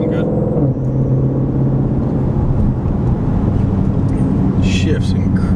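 A Ford Shelby GT500 accelerates on an open road, its engine a loud, steady rumbling drone heard from inside the car, with a brief voice near the end.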